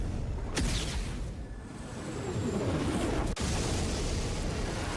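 Explosion from a fireball spell in an anime, a broad rumbling roar with a sharp burst near the start and a sudden crack later, loud and sustained.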